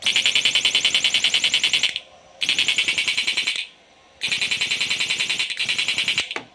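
A harsh, rapidly pulsing electrical buzz from an electrofishing inverter on its low setting sounds in loud bursts, stopping and starting several times with short silent gaps between.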